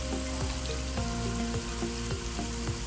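Black peppercorns drop into masala frying in a pan for a beef kofta curry. A steady loud sizzle runs throughout, and a few light ticks and stirring scrapes recur through it. No one talks.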